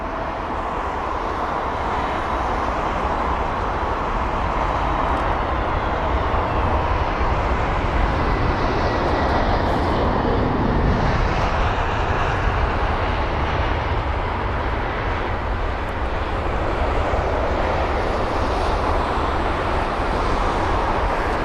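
A passenger jet flying the Lisbon route makes its landing approach at London Heathrow. A continuous broadband engine roar holds loud and steady throughout, swelling slightly near the middle as the aircraft passes close by.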